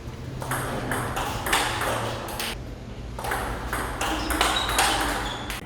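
Table tennis ball bouncing in quick succession during short serve practice, a run of sharp light pings against steady background hiss, with no talking.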